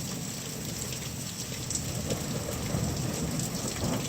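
Steady rain pours across a surface during a summer thunderstorm, with low thunder rumbling underneath and swelling in the second half, fairly loud and continuous with no voices.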